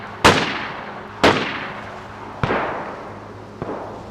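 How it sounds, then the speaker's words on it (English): M4 rifle shots from the DayZ game, four single reports spaced about a second apart, each sharp crack trailing into a rolling echo, growing fainter and more distant with each shot. "As the M4 is fired, you get an idea of how this weapon sounds at these different breakpoints in the game."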